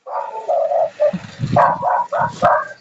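A dog barks over and over in a steady run of yipping bow-wows, close and fairly loud, with no other voices alongside.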